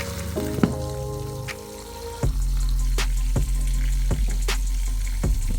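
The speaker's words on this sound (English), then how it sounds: "we're gonna just cover the pot and let it simmer" Jamaican-style oxtail simmers in a covered pot with a steady bubbling hiss. A few soft clicks and clinks sound over it, and a low hum runs underneath.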